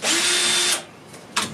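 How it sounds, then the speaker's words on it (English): Electric drill boring a small hole, a loud steady high whine for under a second that stops abruptly, followed by a short burst of noise. "drill a hole. It's not a very big hole, but it should do the trick"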